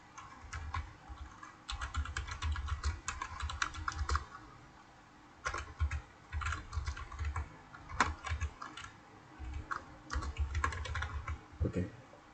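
Fingers type on a computer keyboard while naming a project in SolidWorks 2022, close, quiet bursts of rapid key clicks separated by short pauses, with no talking.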